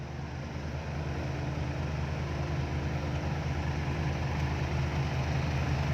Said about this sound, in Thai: ทำท่อไอเสียเหมือนรถฝรั่งเลย